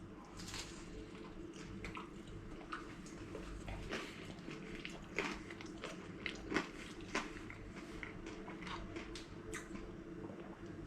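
Biting into and chewing a crispy pizza slice, a string of irregular crunchy snaps and crackles up close over a quiet background, with no talking.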